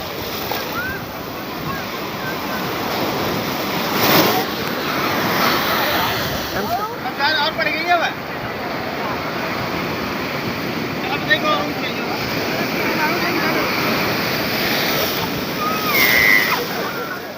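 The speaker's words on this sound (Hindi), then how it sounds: "समुद्र की ऊंची ऊंची लहरें" High Arabian Sea waves surge and wash onto the beach near Somnath temple in Gujarat, a continuous loud roar with wind buffeting the microphone.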